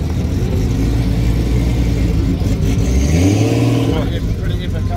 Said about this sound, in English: racing cars.